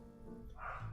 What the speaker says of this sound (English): That's my dog in the background, if you guys can hear him barking.